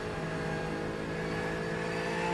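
A loud, sustained engine drone with a steady buzzing tone from a race car in full race trim running at high revs nearby on a circuit.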